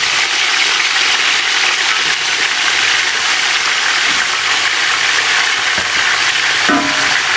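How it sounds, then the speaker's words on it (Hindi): Meat frying in a pot for nihari, a steady, loud, dense sizzle and hiss holding throughout with no pauses, broken only by a couple of faint clinks near the end. "सारा गोश्त जो है ना हम डाल लेंगे और थोड़ा सा गोश्त को फिर फ्राई कर लेंगे"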